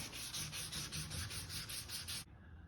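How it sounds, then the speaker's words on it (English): Rhythmic back-and-forth sanding strokes scrape over clearcoat and filler on a hard surface to remove a clearcoat run, about a dozen even passes, close and steady, then they stop. "So I've been sanding it for a couple of minutes."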